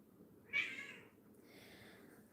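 A single cat meow, fairly close and clear, rising then trailing off over low background noise.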